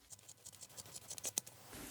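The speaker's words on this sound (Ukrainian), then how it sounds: "Ось тут сховалися силові ножиці. Ганчір є в безліч слоїв." A Roxon Phantom S802 multitool's spring-loaded scissors cut through a multi-layer rag in a quick series of small, crisp snips and scratchy rasps, close to the microphone and quiet, with no voices.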